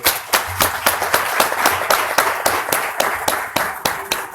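An audience at a poetry award ceremony claps in a steady rhythmic applause, with sharp individual claps repeating about twice a second, close and fairly loud.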